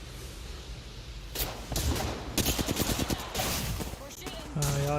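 Gunfire in Apex Legends plays as several loud bursts of rapid shots over a low background, with a brief tonal game sound at the close and no talking.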